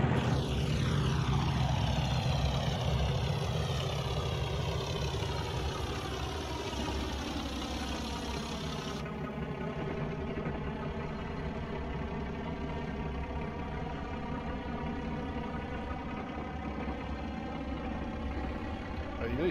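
A Class 37 diesel locomotive, nicknamed the Tractor, idles in the game Train Simulator Classic, a loud, steady, throbbing engine drone that settles from a busier opening into a constant low rumble.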